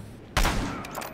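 A sniper rifle shot fires in the multiplayer shooter Battlefield Hardline on the desert map, a single loud close blast followed by a rolling echo and game noise.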